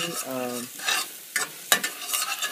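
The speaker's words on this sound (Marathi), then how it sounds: "मी आता गार्लिक आणि कांदा घालणार आहे. आधी ऑइलवरती" Garlic and onion sizzle in hot oil as they are stirred, with a few sharp utensil scrapes and clatters over a steady frying hiss.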